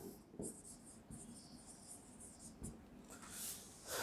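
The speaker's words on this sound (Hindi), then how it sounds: "चलिए एक एग्जाम्पल और लिखते हैं" Hand writing out an English grammar example, probably chalk or marker on a board during a lesson, faint soft scratching strokes with small taps, quiet and close.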